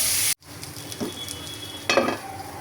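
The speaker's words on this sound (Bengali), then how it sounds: "আমি মশলাটা ভালোভাবে কষিয়ে নিই।" Spice paste fries in a pot on the stove, a moderate sizzle broken by a sudden cut near the start and a couple of clanking stirs against the metal.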